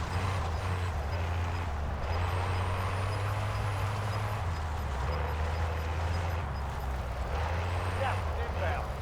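A vehicle engine in Call of Duty Warzone rumbles low and steady throughout, with its pitch shifting slightly as the vehicle moves, while a voice talks over it.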